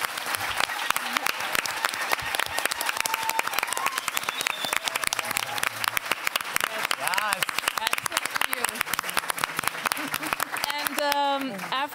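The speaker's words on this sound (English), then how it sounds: "I think one more applause for our speakers" An audience at a Pakhuis de Zwijger photography talk evening applauds its speakers with dense, sustained clapping that runs the whole stretch, with some voices mixed in toward the end.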